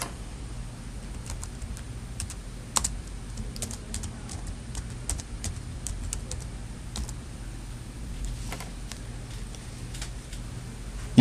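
Scattered keystrokes on a computer keyboard while entering a photo album title in a presentation, sparse faint clicks with pauses over a low background hum, close but quiet.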